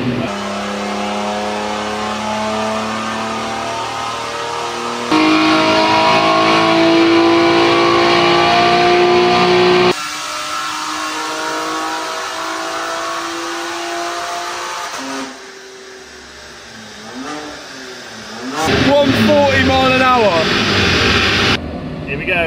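A BMW M3 Competition, crash-damaged and rebuilt, revs hard on a dyno run, its engine climbing through long, loud pulls with abrupt gear changes and a brief drop to idle; a voice speaks briefly over it.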